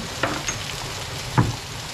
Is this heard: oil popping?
yes